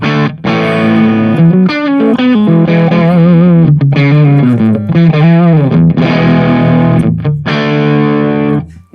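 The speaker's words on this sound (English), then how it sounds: "Now I'm gonna take away the reverb, just so we can kind of hear how much gain we can have clearly." Crunchy overdriven electric guitar played on the bridge pickup through a Tone King Royalist amp with the reverb off, a loud continuous run of chords and bends with no talking.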